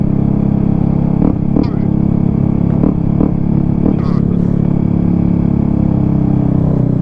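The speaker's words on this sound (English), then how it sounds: "They know they hear this bike." Dirt bike engine idling and rumbling close by in a steady low drone, with a few short throttle blips and some background voices.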